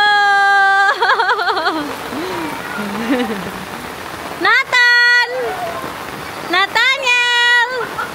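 Steady rain pours down outdoors, a continuous hiss under a family's loud playful voices, with high sung or shouted notes cutting in at the start and again near the end.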